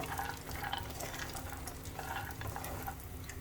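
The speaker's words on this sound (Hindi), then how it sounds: "इन्हें भी हम ड्राई रोस्ट कर लेंगे। हल्का सा भून लेते हैं" Chopped dry fruits dry roasting in a pan, a faint rustling, scraping stir with light crackle, quiet and close, no speech.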